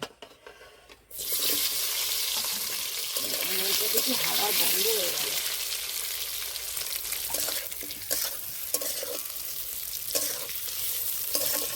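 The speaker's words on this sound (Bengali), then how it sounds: "তেল ভালো করে গরম হয়ে গেছে এবার আলুগুলো হালকা করে ভেজে নেব" Potatoes sizzle in hot oil in a kadai on a lit stove, a loud, steady, hissing fry that starts abruptly and continues throughout while a person talks.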